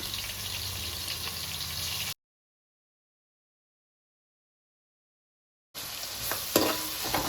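Onions sprinkled with salt fry in a pan for chicken curry, giving a steady close sizzle with stirring scrapes. The sound cuts out to silence midway and then returns.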